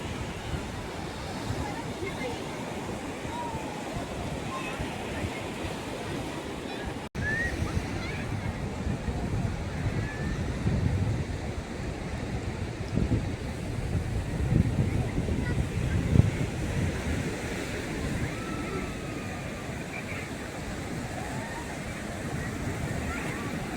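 Sea waves break on a seashore at a beach party, a steady, moderate surf rush with wind buffeting the microphone and occasional swells, while people talk in the background.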